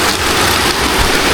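Steady rain falls outdoors, a dense, even hiss of drops on surfaces with no talking, close and continuous from start to finish.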